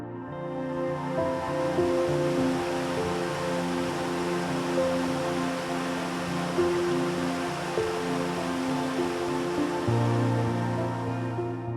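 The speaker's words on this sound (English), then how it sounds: "nothing but the roar of falling water and the wind howling past the cliffside" Falling water at Kaieteur Falls in Guyana roars steadily with wind howling past the cliffside, a constant dense rush with no pauses, heard alone without voices.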